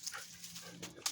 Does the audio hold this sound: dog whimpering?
yes